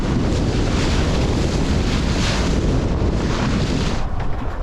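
Strong storm wind at sea, peaking at 28 knots while sailing, roars as a loud, constant rush buffeting the microphone, with waves and water noise blended underneath and no voices.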